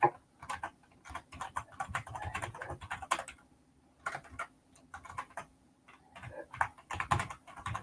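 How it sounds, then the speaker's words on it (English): Keys clatter on a computer keyboard as an email address is typed in, a quiet, close run of uneven taps with brief pauses, heard alone without speech. "You will need to type it in manually."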